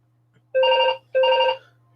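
A household telephone rings twice in quick succession, two clear electronic bursts close by in an otherwise quiet room.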